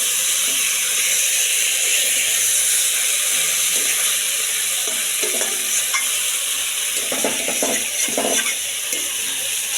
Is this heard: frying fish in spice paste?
yes